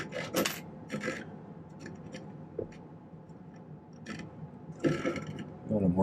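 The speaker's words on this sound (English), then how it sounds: "22 gauge round wire. I'm going to cut a couple pieces just a little bit longer." Cutters snip 22 gauge round silver wire at a jeweller's bench, making a few sharp, quiet metallic clicks and small clinks scattered through a hushed room.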